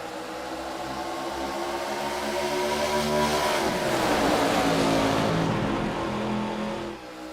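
An ARCA stock car on the Michigan oval in the iRacing sim game accelerating at full throttle, a loud continuous engine roar rising in pitch as it picks up speed, with other cars droning alongside.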